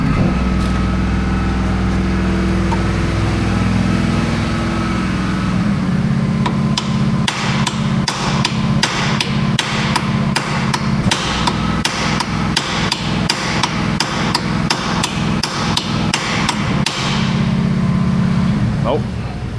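A steel hammer striking repeatedly during suspension work on a Porsche 992 GTS or 9YA Cayenne, a fast series of loud metallic blows in a garage over a humming background, with brief talk nearby.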